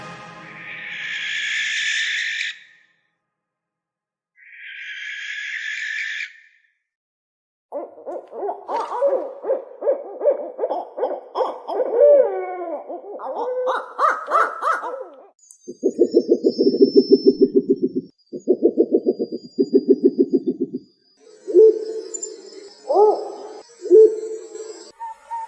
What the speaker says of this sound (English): It's a selection of owls.